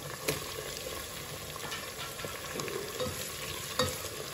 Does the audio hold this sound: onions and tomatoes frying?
yes